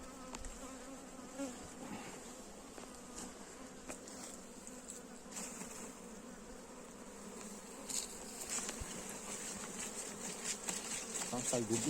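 Honeybees buzzing at a hive during a honey harvest, a dense continuous drone of many insects close by with individual buzzes passing, growing slightly louder toward the end.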